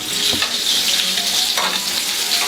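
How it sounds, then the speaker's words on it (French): Fennel fries in a pan as the heat is turned down, a steady close sizzle with brief stirring scrapes and no talking. "Les fenouilles commencent à colorer, le feu baisse."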